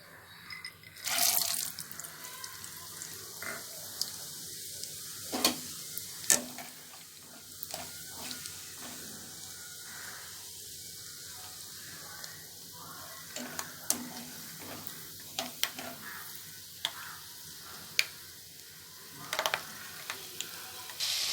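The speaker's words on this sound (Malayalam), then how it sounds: "അപ്പോൾ നമുക്ക് ആദ്യം നിലക്കടല ഒന്ന് വറുത്ത് കോരാം." Peanuts roasting in a pan for a homemade snack mix, a soft scattered crackle and scrape of stirring with occasional sharper clatters, faint and fairly close throughout.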